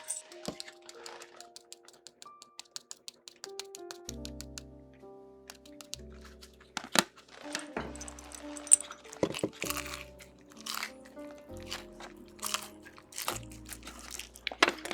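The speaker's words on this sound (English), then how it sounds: "I don't know if you guys can hear the crunch" Sharp crunching bites into a crisp homemade pizza, irregular close clicks and crackles over a quiet background with a few brief tonal sounds.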